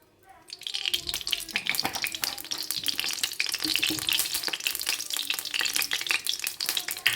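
Oil poured into a hot pan while making Kerala-style uppumavu, bursting into a loud, crackling sizzle after a brief quiet start and frying steadily and densely for several seconds, with no voices.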